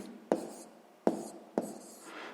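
A pen or chalk writes out a sixth-grade math solution, producing three distinct sharp taps, each followed by a short scratchy stroke, in a quiet room without talk.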